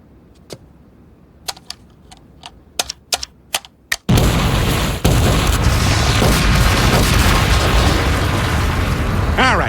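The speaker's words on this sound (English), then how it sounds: "blows up the hospital in a huge explosion" In a cartoon, a hospital is blown up in a huge explosion: sharp isolated clicks and pops build up, then a sudden loud, sustained roaring blast rumbles on for several seconds.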